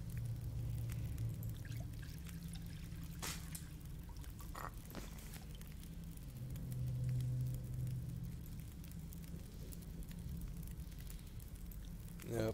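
Water being prepared in The Long Dark survival game, a faint, quiet mix of pouring, trickling and low sizzling with a soft hum beneath and a few brief clicks.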